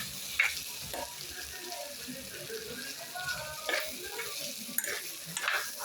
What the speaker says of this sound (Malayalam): അതുകൊണ്ട് നല്ലോണം ഒന്ന് ഇളക്കി കൊടുക്കാറ്.